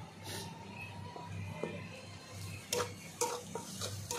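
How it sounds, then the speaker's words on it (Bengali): Spice paste with ginger paste and a little chili powder is worked in a pan, quiet and close, with a faint low sizzle under a few sharp metallic clinks of a spoon against the pan near the end. "ভালো করে একসঙ্গে আবার কষিয়ে নিচ্ছি একটু"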